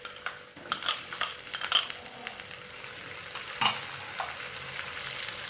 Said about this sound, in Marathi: आता आपण यामध्ये टोमॅटो टाकणार आहोत।